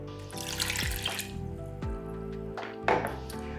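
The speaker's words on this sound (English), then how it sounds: "Let's go ahead and use 3/4 cup of beef broth." Beef broth pours into a pot of ground beef in a home kitchen, a soft liquid splashing and trickling with a few gurgling spurts, fairly quiet and close, with no talking.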